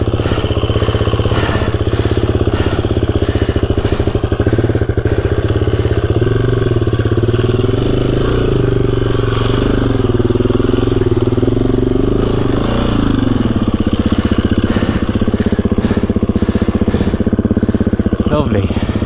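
A KTM EXC-F 350 dirt bike ridden in snow, its single-cylinder four-stroke engine running loud and close throughout, droning and rising and falling slightly in pitch with throttle changes.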